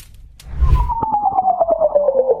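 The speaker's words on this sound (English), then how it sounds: "astronomers picked up this super weird, narrow-band radio signal, and it was coming from Proxima Centauri." Narrow-band radio signal attributed to Proxima Centauri, rendered as an eerie descending electronic tone that glides steadily downward over a pulsing, buzzy low rhythm, loud and continuous after a brief noisy onset.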